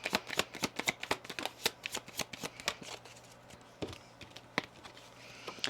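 Oracle cards being shuffled by hand, a rapid run of crisp close riffling snaps and taps that slows toward the end, with no talking.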